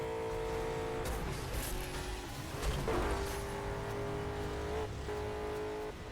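A car in the video game Burnout Paradise drives with a steady, loud engine drone and sustained tonal hum, with a brief rougher burst of tire or engine noise partway through.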